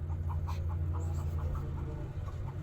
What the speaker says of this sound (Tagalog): nagputak ang manok